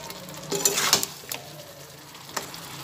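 Chicken stirred with fresh cream in a pan, a few soft scraping strokes with a faint sizzle, close and quiet, without talk.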